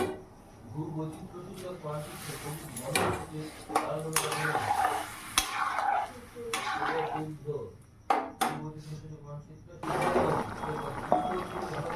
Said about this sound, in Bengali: তো ফুলকপি আলুর তরকারিটা ফুটে উঠেছে